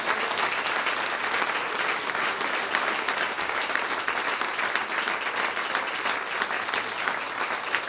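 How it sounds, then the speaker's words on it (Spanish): Church congregation at a Sunday worship meeting claps steadily and energetically, a dense, even wash of applause from many people that holds throughout. "Un aplauso a él,"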